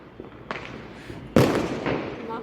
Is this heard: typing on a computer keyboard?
no